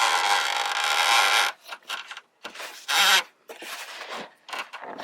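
Electrical cables taped together with electrical tape being pulled through the body of a 2019 Toyota RAV4 during fog light installation, giving a run of dry rubbing, zipping friction sounds in several bursts with short pauses between pulls.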